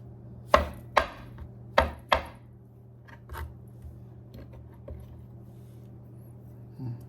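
A knife chops fresh dill into small pieces on a cutting board, four sharp, distinct chops close together followed by a few softer, sparser cuts in an otherwise quiet kitchen.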